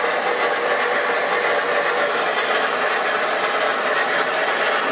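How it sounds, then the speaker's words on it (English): A DCS remote-controlled model subway train set runs steadily on its track, a constant mechanical hum and whir with a faint high whine, even and continuous with no talking. "I'm going to start up my subway set here."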